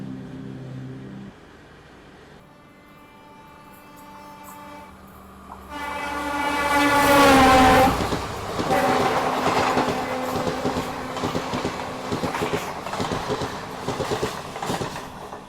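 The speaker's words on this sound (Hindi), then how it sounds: "तो ये थी रंगिया न्यू तिनसुकिया एक्सप्रेस जो कि अभी हमें क्रॉस हुई" Rangiya New Tinsukia Express crossing at a small Indian station, its horn sounding before the passing carriages build into a loud rhythmic clickety-clack of wheels on rails, heard from a stopped train alongside.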